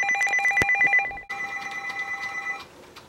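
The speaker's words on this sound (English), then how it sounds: "Is that the phone?" Home telephone ringing with a rapid electronic trill, one loud burst, then a brief gap and a second quieter, warbling ring trailing off, no talk.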